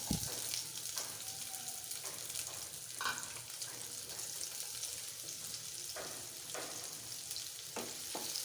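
Chopped onions frying in oil in a pan, a continuous close sizzle with intermittent stirring clatter throughout.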